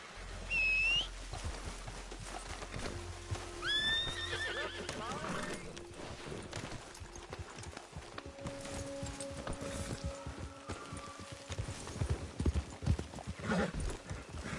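Horses in the Red Dead Redemption 2 open-world western game: steady clip-clop of hooves on a prairie trail, a whinny and a sharp whistle near the start, with faint music and ambience beneath.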